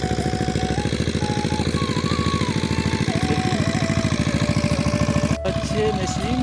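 An irrigation water pump engine chugs steadily and loudly up close beside a rice paddy field, a continuous rhythmic mid-pitched drone with a brief knock near the end.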